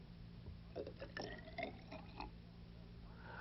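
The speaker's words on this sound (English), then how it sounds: "If we add more water to one cylinder," Water poured into one of two upright cylinders joined by a hose, a carpenter's-level demonstration; a quiet, irregular trickle and splashing with a few brighter bursts over steady low background hum.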